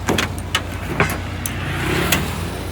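Steady engine and road rumble from inside a truck picking up hitchhikers in Laos, a continuous low drone with a few light clicks and rattles and no talking.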